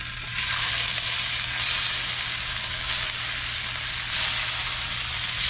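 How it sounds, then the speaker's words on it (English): Fish searing in a hot pan, a steady loud sizzle and crackle that holds without pause throughout. "So broth boiling, we're just gonna sear these barely."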